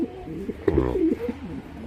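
A large pair of chocolate-coloured pigeons coos nearby, a soft, low, rolling call rising over faint background noise.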